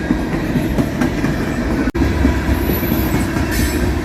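A freight train of old CSX hopper cars, some of them Conrail and New York Central, rolls past close by, with a loud steady rumble of wheels and a single sharp clack midway.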